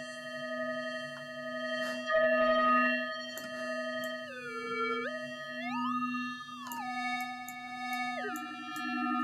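A steady Mutable Instruments Elements synthesizer tone from FM interaction with a stereo filter, bright shifting harmonics gliding up and down in pitch, buzzy and metallic, dry with no reverb, playing alone with no voices.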